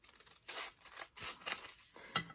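Scissors snip through crepe paper in several separate crisp cuts, close and fairly quiet, each a short papery rasp with brief pauses between.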